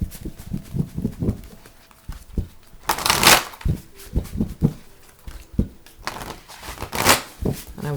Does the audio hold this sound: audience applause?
no